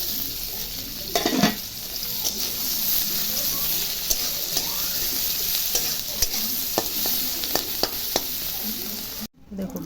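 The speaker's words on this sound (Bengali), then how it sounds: "এখন আবার একটু তেল দিব, পেঁয়াজও দিব, পেঁয়াজগুলো ভেজে নিব" Onions fry loudly in oil for a jackfruit seed mash, a continuous close sizzle broken by sharp spatula scrapes and clinks against the pan, with a short dropout near the end.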